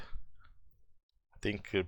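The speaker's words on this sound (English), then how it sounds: "because I record and my mouse is not perfect or something like that, sometimes it stops from clicking." Computer mouse clicks during ARK gameplay: faint, quick clicks early on, then a voice begins talking near the end.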